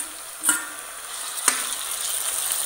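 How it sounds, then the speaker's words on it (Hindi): Chopped tomatoes drop into golden fried onion masala in a hot pan for a green beans and potato sabzi, giving two quick sizzling bursts at about half a second and one and a half seconds over a steady background fry. "हमारे प्याज मसाला गोल्डन हो चुका है, अब हम इसमें डालेंगे कटे हुए टमाटर।"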